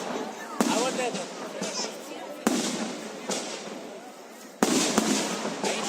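A fireworks salute for Komi Republic Day, with several sharp booming bursts going off at intervals over a constant crackling roar of distant explosions and crowd noise.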